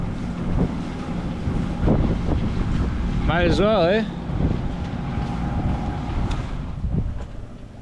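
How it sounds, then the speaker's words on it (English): Steady wind rushes across a sailboat with its head sail out, blowing over the microphone amid water sounds, with a person speaking briefly. "the wind came back in and it's coming at us enough from the side where we can catch some of it at least"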